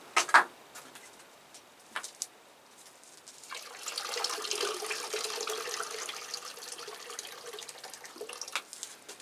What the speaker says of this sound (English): I have boiled some water, so we'll put some of that in just to warm it up a bit.